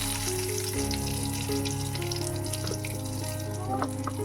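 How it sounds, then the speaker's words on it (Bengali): Whole garam masala spices sizzle and crackle steadily in hot oil, a continuous close frying hiss with some light clinks, for a Bengali prawn bhapa dish. "গরম হয়ে গেছে এবার আমি গোটা গরম মশলার মধ্যে দিয়ে দেবো"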